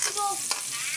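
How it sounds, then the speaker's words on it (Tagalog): Food sizzles briefly while being sautéed with aromatics in a pan, a short close crackle of frying with a faint scrape. "igigisa ko na naman siya sa panakot"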